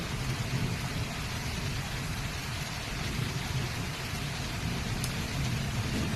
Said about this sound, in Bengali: দেখো কেমন বৃষ্টি হচ্ছে।